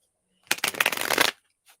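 A deck of cards is riffle-shuffled in one quick burst of dense, crisp flutter lasting under a second, followed by a faint soft tap, close and clear in an otherwise quiet room.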